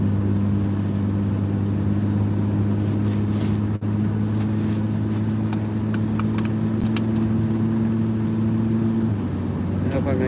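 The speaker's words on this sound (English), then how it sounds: "I've been sitting here running the car." A parked car idles low on fuel, its engine humming in a steady low drone for about nine seconds before the tone shifts near the end, with a sharp click and faint rattles along the way.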